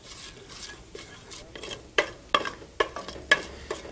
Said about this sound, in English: Got 2 bay leaves there. Sauté those for a few seconds.